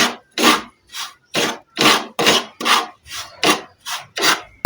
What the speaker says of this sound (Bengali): এইভাবে এটাকে আস্তে আস্তে নাড়তে হবে, এটা পুরোটাই শুকিয়ে যাবে।